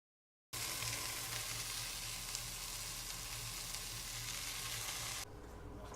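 Deboned chicken pieces, breast cut into parts, browning in a hot pan for a chicken stew: a loud, steady, close sizzle that starts abruptly and runs continuously without talk.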